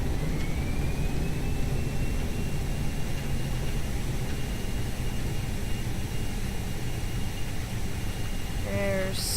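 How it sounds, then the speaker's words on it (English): Boeing 737-300 jet thrust reversers deployed after touchdown in the X-Plane 11 flight simulator, a loud continuous engine roar with a steady whine throughout. "Reversers out."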